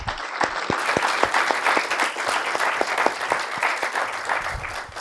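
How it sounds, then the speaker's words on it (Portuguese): Audience applause for two authors at a Sempre Um Papo literary talk, a dense steady wash of clapping with a few sharper nearby claps standing out, sustained and fairly loud throughout. "eu queria pedir uma salva de palmas para os dois"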